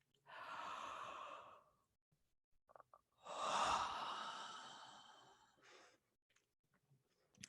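Two long, breathy yawns, the second louder and drawn out, with soft breaths between them and no talking.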